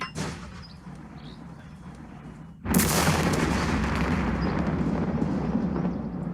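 A cannon fires high-explosive shells in the war game Second Front, Kiev scenario: a sudden loud blast cuts in and gives way to a dense, sustained roar of gunfire and rumble that carries on to the end.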